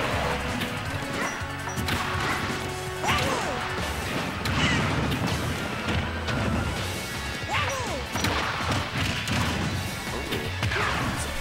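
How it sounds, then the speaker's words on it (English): Super Smash Bros. Wii U match audio with a long-range forward smash attack landing amid dense, constant game effects, crowd noise and music, loud and busy throughout. "that long-range forward smash"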